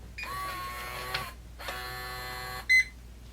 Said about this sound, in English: and the bolt goes in